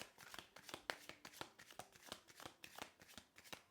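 Tarot cards shuffled by hand during a reading, a quick run of crisp riffling snaps and soft slaps in an uneven rhythm, close and fairly quiet, with no talk over it.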